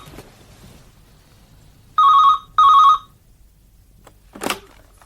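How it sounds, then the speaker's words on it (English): A telephone rings twice in short, loud bursts in a BBC radio play drama, followed by a brief click after a pause. "Just let me answer this phone"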